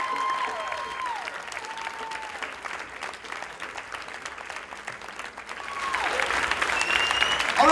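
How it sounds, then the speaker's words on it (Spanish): A crowd applauds steadily, clapping swelling louder toward the end, with a few tonal electronic sweeps heard alongside. "Un aplauso."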